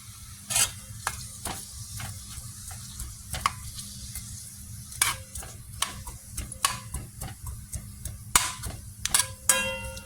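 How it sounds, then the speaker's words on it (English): Onions saute in a pot for Southern collard greens, a low steady sizzle under frequent sharp clicks and scrapes of a utensil stirring against the pot, close and irregular. "So we're gonna saute these onions down."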